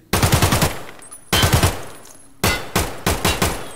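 Bursts of automatic gunfire from a shooter video game, three loud close volleys of rapid shots separated by brief pauses, with no talk over them.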